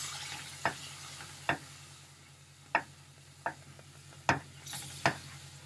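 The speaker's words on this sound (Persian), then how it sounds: "و تون هم میزنیم تا شهد به خورده آردمون بره" Syrup is stirred into a flour mixture for pumpkin halva, with quiet, scattered scrapes and taps of a spoon against the pan, about six distinct knocks over a faint sizzling background.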